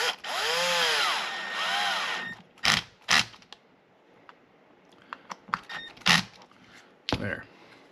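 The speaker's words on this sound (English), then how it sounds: "So that's when I broke out the drill." A power drill drilling plastic on an R/C monster truck whines for about two seconds, rising and falling in pitch, followed by sharp clicks and clatter of plastic parts.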